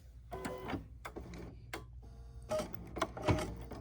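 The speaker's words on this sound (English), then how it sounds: "So now is our covering stitch, which is the satin stitch." Embroidery sewing machine stitching a satin stitch, quick mechanical bursts of needle chatter with short pauses between them, close and moderately quiet.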